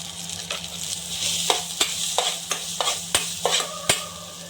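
Ground coconut mixture being roasted in a pan on low flame for korralu payasam, with a soft constant sizzle punctuated by crisp, regular spatula scrapes about every half second, close and clear.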